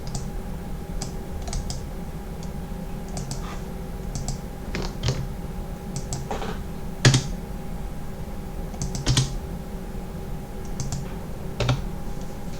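Keys tapped steadily on a computer keyboard as a supplier's address is entered into accounting software: irregular bursts of close, light clicks with a few louder keystrokes over a low steady hum, no one talking.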